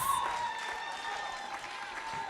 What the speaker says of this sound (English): Let us pause again for the applause